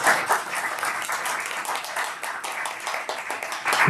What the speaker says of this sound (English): give our speakers another round of applause for tonight